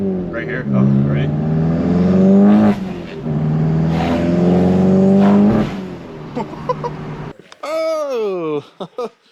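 A VW GTI fitted with an IS38 turbo pulls hard through quick upshifts, its engine tone rising and dropping in repeated sweeps, loud and close from inside the car, with people talking over it near the end.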